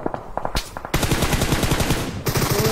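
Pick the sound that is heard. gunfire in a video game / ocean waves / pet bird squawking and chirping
gunfire in a video game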